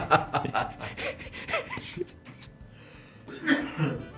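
A fit of coughing and breathy throat sounds, close up, in a rapid irregular burst, easing off before a final cough or two.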